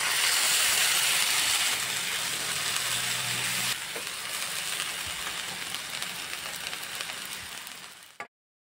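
Chopped pumpkin leaves hit hot oil in a wok and fry with a loud, steady sizzle that dips slightly after the first few seconds and then holds, broad and close, with no talking, before cutting off abruptly.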